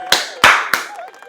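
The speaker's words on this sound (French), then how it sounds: "Je tiens à t'applaudir" Three sharp hand claps at the end of a home bodyweight workout session, spaced unevenly and close to the listener, each a crisp slap fading quickly, with faint voice in the gaps.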